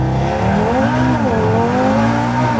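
A 780 hp Audi RS3 launches and accelerates hard on a cold day, its loud, close engine climbing steadily through the revs with a buzzing, harmonic-rich tone and faint tire noise.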